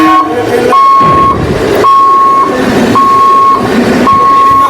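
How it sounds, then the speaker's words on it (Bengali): A local train passing at speed near a riverside bathing ghat, a loud continuous rumble with a repeating tonal beep sounding at regular intervals throughout. "আর একটা এখানে লোকাল ট্রেন আসছে জাস্ট আপনাদেরকে দেখাচ্ছি কীরকম স্পিডে যাচ্ছে"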